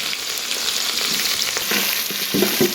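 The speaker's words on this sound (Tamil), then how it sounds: "ஸோ வெங்காயத்தை நல்லா வதக்கணும்." Chopped onions fry in hot oil for prawn biryani, giving a loud, close, continuous sizzle with a few stirring scrapes near the end and no talking.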